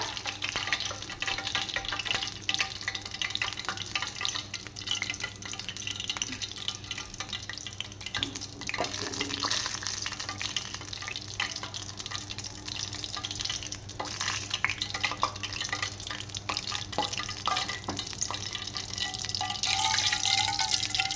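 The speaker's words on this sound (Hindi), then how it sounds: "ये जो कड़ी पक रही है" Steady broadband sizzling and bubbling from a pot of kadhi simmering on the stove, continuous and close, with faint clinks and drips and no talking.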